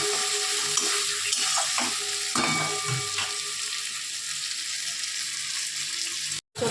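Ingredients for a jackfruit and chana dal curry frying in a pan, a close, steady sizzle with occasional stirring clatters, briefly cutting out near the end.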